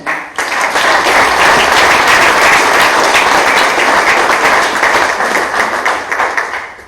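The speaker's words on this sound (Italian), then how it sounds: "Un applauso per tutti." A crowd breaks into loud, sustained applause, many hands clapping together steadily before it begins to thin out at the end.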